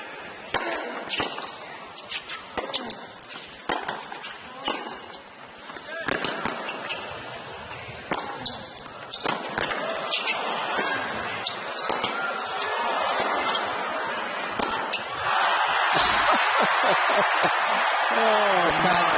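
Tennis crowd at an Agassi versus Sampras match breaking into applause: scattered claps and ball pops give way to swelling, steady clapping from a large audience, with a commentator speaking over it.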